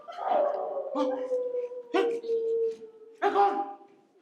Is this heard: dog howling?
yes